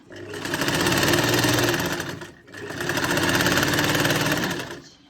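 A sewing machine runs in two bursts as it stitches a fitting seam on a garment, a loud, fast, rattling whir that cuts off briefly between runs and stands alone without talk.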